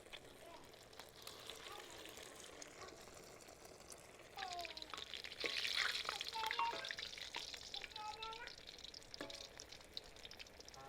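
Egg-dipped chicken kababs fry in oil in a kadhai, a soft continuous sizzle that grows louder midway as pieces go in, with faint talking and utensil clinks.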